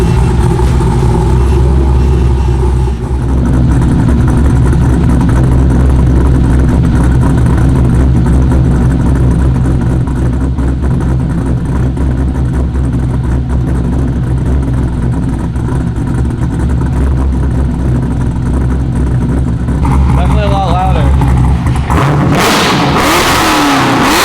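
BMW E36 wagon engine running with the muffler removed, a loud raw exhaust that idles and revs continuously close up before cutting off abruptly near the end.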